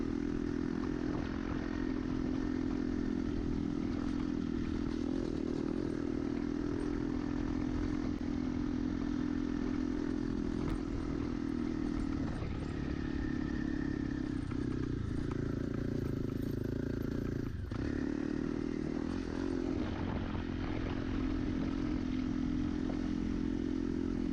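A motorcycle rides off-road along a rocky desert creek trail in the mountains and canyons, its engine droning close and steady throughout under clattering and scraping from the rough ground.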